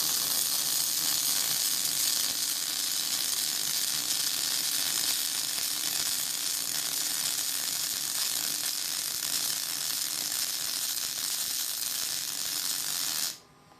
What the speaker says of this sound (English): I'll weld this bit here with the gas